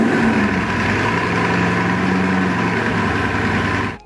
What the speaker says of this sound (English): When you fire it up, the engine rumbles, it's loud